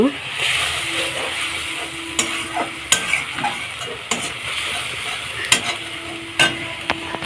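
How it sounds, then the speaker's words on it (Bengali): A curry of taro stolons sautés in a pan with a little water, its soft sizzle broken by repeated spoon scrapes and clacks from stirring, close and fairly loud. "একটু জল দিয়ে কষাই নিচ্ছি"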